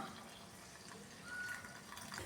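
Water poured from a cup into a bowl of wheat flour and yeast mixture for palappam batter, a soft, steady trickle and splash heard faintly and close, with no talking.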